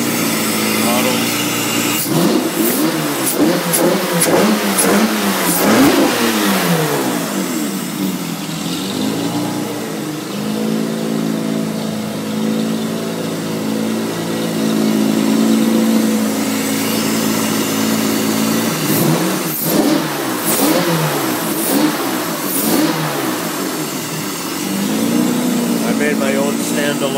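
A BMW V12 engine running on a Haltech Platinum Sport 2000 standalone ECU revs up loudly in repeated throttle blips over a steady idle, with talk heard during parts of it.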